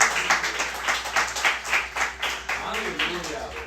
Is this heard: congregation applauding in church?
yes